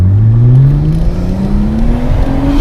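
A Nissan Skyline accelerates hard, its engine loud and close with a steadily rising pitch as it pulls through the revs, with no voices over it.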